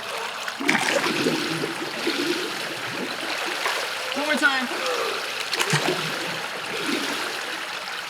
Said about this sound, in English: Can you show me going under the water blowing bubbles?